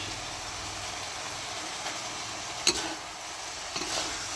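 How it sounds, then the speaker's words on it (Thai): Holy basil and oyster mushrooms stir-fried in a home-kitchen pan give a soft, steady sizzle with quiet stirring, broken by one sharp clink of a utensil midway and a few faint scrapes later. "แล้วก็ผัดผัดไปนะจ๊ะ"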